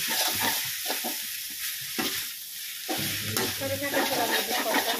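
Homemade chicken chow mein fries in a pan while a fork and spoon stir and toss the noodles, making a constant close hissing sizzle broken by rhythmic scraping and clattering strokes.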